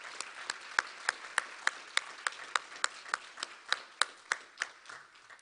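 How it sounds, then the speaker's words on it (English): An audience claps for IB graduates at a graduation ceremony, with sharp, evenly spaced claps ringing out in a steady rhythm from a few hands, fairly distant in a reverberant hall, and gradually thinning toward the end. "let us all give our applause for our graduates"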